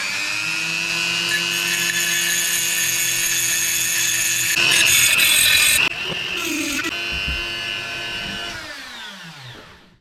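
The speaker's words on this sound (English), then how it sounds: "I've got some pieces to Dremel off my test tile holders" Dremel rotary tool grinding glaze off pottery test tile holders, a steady high whine that shifts pitch midway as it bites into the ceramic, then spins down at the end.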